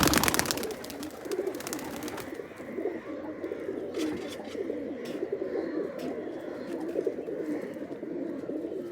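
A white male Rajshahi Giribaz pigeon cooing repeatedly, soft rolling calls close by over a steady background hum, with a burst of other noise at the start.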